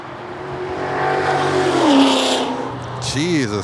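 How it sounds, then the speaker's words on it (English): A Ford Mustang passes close by with a loud engine roar that builds and then fades. Its tone bends as it goes past, with airport ground noise and radio chatter around it. "Jesus Christ, it was a Mustang."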